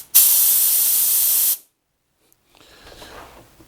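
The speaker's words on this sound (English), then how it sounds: "when I use my air gun, check out how noisy this is" Air gun on a cheap air compressor blasts compressed air in one loud, steady hiss for about a second and a half, cut off sharply, then faint rustling follows.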